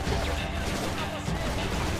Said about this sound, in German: Die Schüsse gehen auch langsam raus.